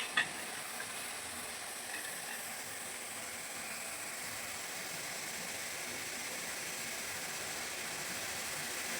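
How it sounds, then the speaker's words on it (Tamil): Faint, steady bubbling and hissing of gulab jamun sugar syrup boiling in a pan, continuous and low throughout with no talking. "கொஞ்சம் நல்லா கொதிக்குது."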